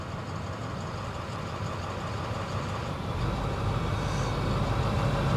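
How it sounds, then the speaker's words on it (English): A truck's diesel engine rises in revs as DPF regeneration begins, a low steady idle that swells into a louder, deeper drone partway through, close by, with no talk over it. "The engine is now revving up."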